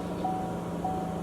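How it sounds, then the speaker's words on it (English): Two short high electronic beeps inside a Chevrolet Silverado pickup, ringing over a steady hum of the engine and cooling fans running after a thermostat sensor fault. "Sorry for the annoying beeping."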